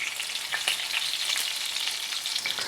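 Lamb chops fry in a cast iron skillet with a steady, close, even sizzle and faint crackles throughout, with no talking.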